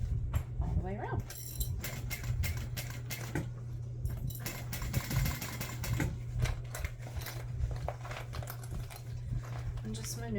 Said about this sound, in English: Just sew that all the way around.